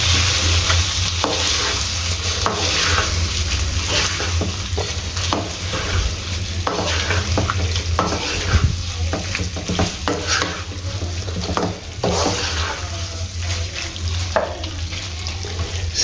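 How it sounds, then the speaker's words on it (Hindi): Creamy sandwich filling stirred in a hot pan, a steady sizzle with repeated spoon scrapes and clicks running continuously and close, no talking. "इसके अंदर क्रीम का ऐड करना है जो इसके अंदर क्रीमी सा एक फ्लेवर लेके आएगा। और इसको इधर अच्छे तरीके से हमने मिक्स कर देना है।"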